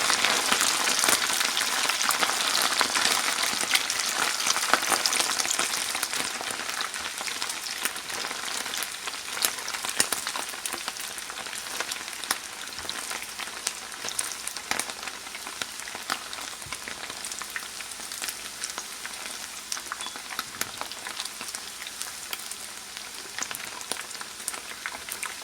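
Halal beef bacon fries in hot oil with a loud, continuous, crackling sizzle, dense popping that stays steady for the whole stretch and eases slightly toward the end, with no talking.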